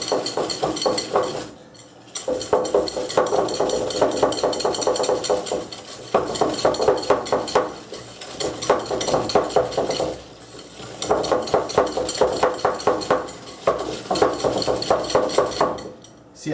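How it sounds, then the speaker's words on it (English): Sugar is whisked into egg yolks in a bowl for a flourless chocolate cake. The utensil scrapes and clinks rapidly against the bowl in long, busy bursts separated by brief pauses, heard close and fairly loud. "Add the sugar to it and we're going to stir it together."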